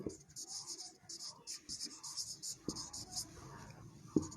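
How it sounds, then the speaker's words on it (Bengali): Pen or pencil scratching on paper while a math solution is written out by hand, soft rhythmic strokes in short bursts with occasional taps, close and quiet, with faint whispery sounds. "এটি আমরা লিখব।"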